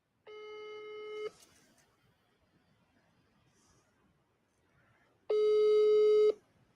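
A telephone busy signal sounds on an unanswered call: two separate steady tones, each about a second long, separated by a quiet gap, with no talking over them.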